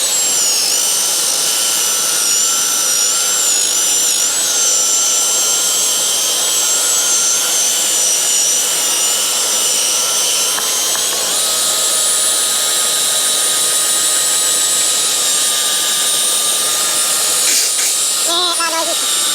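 A power sander with a 3000 grit pad hums and whirs continuously on a Volkswagen Jetta headlight, its pitch shifting as pressure changes, with a brief voice near the end.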